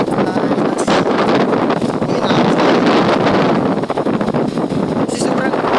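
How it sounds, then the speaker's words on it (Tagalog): Strong typhoon wind on Camiguin Island roars continuously into the microphone as a loud, buffeting rush with no pauses, broken only by brief gusty peaks. "Kasi sobrang lakas ng hangin."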